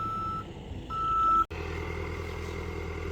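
A farm machine on rural land reverses down a slope, its reversing alarm beeping steadily in a repeating pattern until a sharp cutoff, after which a low engine rumble continues.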